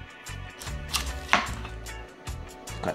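A knife chops through pineapple on a cutting board in a Jamaican-style kitchen, a quick series of close, crisp thuds and cuts in an uneven rhythm.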